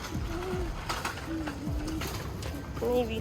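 Pigeons coo softly several times in short, low, wavering calls near a station entrance, against a murmur of background noise.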